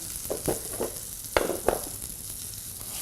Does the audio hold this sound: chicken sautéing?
yes